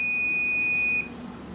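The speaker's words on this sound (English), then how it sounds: "If you lose your main power, you get an alarm" Fail-safe panel alarm buzzer sounding on main power failure, a loud steady high-pitched electronic tone that stops abruptly after about a second, leaving quiet room noise.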